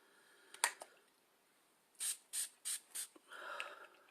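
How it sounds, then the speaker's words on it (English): Four quick, evenly spaced hisses of makeup setting spray misted onto a face, preceded by a couple of faint clicks and followed by soft rustling, close and fairly quiet. "I'm going to use a setting spray on my face."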